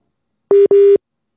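Two short, loud telephone busy-signal beeps sound close together at one steady pitch, with silence before and after.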